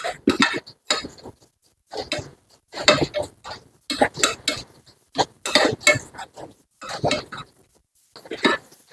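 Sambal with a pinch of sugar being stirred in a pan, a close series of irregular metallic scrapes and clinks of utensil against pan in short bursts, with no talk.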